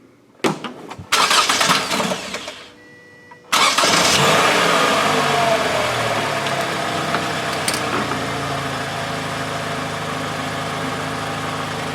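A 2012 Toyota Camry's engine cranks and catches after a couple of short bursts, then settles into a steady, close idle that carries on alone without talk.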